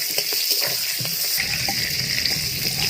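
Eggplant pieces fry in hot oil with salt and turmeric, a close, steady crackling sizzle with a few stirring knocks early on, continuing evenly without voices.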